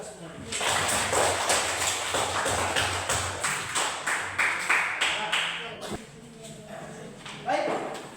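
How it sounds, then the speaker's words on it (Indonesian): Group clapping fills a classroom after the group presentations, with steady rhythmic claps from many hands, fairly close, while voices run underneath. "Kasih aplaus untuk kita semua"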